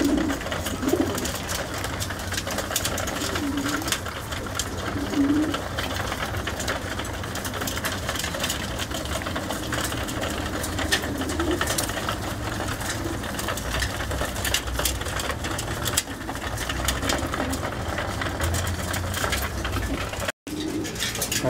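Pigeons cooing steadily in a loft after feeding at a racing-pigeon competition in Huichapan, soft repeated coos over a continuous backdrop of low machine-like hum and ambient noise, with no talk.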